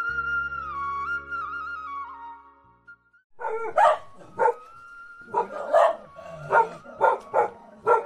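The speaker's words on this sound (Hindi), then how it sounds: "कुत्ता है गजनी" A dog named Ghazni barking in repeated short bursts, close and fairly loud, after a stretch of sustained music, in a hill town of Ranikhet.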